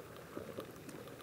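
A kettle on a riverbank simmers just short of the boil, giving a soft, steady hiss with faint bubbling ticks, close and continuous.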